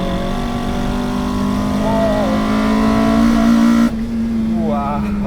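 Toyota GR Corolla engine revving under load while driving, a loud steady drone with climbing harmonics that abruptly drops off near the end as the throttle lifts, followed by a brief rise in revs.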